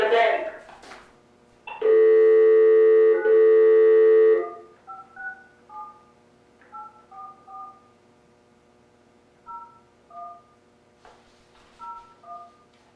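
Telephone keypad tones while placing a call during a planning commission meeting: a long steady tone sounds, then a series of short, evenly spaced dialing beeps in separate clusters, with a brief voice at the start.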